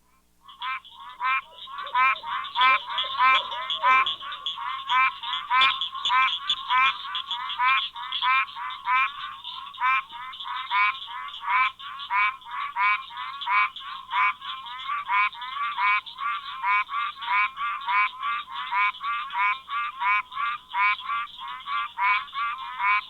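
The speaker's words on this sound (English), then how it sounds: "Its call is similar to that of the green tree frog and is heard here with cricket frogs and a" Tree frog calls repeat in a fast, steady series of loud nasal notes, with cricket frogs and a barred owl faintly in the background of a night chorus.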